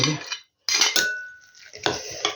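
Metal utensil scraping and clinking against a bowl in short bursts, stirring chopped onion and garlic close up, with brief pauses between strokes.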